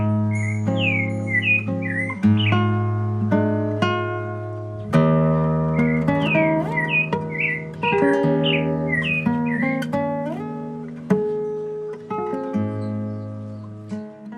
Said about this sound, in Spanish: los sonidos de las aves, el chonte, que es mi ave favorita, el canto del chonte.